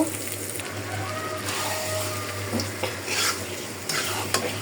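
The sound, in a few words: taro leaves added to frying spices in a pan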